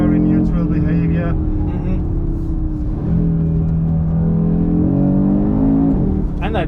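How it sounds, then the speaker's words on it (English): Audi RS3 five-cylinder engine, 2022 model with torque splitter, driven hard in performance mode, a steady loud engine drone with shifting pitch running throughout while people talk over it. "that 5-cylinder engine, I mean, that's a gem of an engine"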